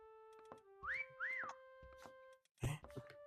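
Whistles in a hide-and-seek video game: two rising-falling whistle tones in quick succession, clear and close, followed by scattered game sounds and a sharper burst near the end.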